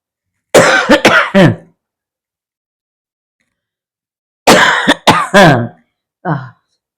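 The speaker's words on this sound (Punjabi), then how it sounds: "ਸਾਡੀ ਮਾਂ ਨੂੰ ਇੰਨੀ ਖਾਂਸੀ ਆਂਦੀ ਵੀ ਹੈ" Two close, loud bursts of harsh coughing separated by a pause of silence, followed by a short throat-clearing.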